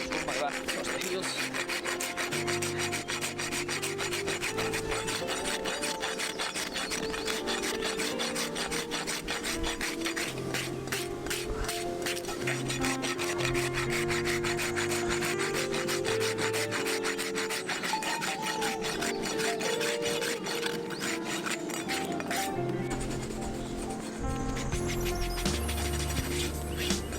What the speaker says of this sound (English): Run my rasp across the heels.